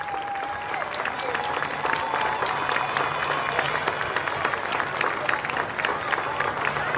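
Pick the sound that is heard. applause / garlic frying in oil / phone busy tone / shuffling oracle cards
applause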